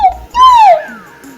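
A child imitates a bird call in a high, clear whistled voice, rising and sliding down in pitch over about a second, fairly loud and close, with a soft trailing tail.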